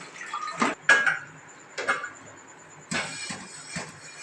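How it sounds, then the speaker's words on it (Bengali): Dishes and pots being washed in a home kitchen sink, with a few separate clinks and clatters of utensils set down between quiet pauses, close by and moderately loud, with no talking. "এই যে সব বাসন ধোয়া শুরু হয়েছে কিছুটা ধোয়া হয়েছে এখানে রাখছি"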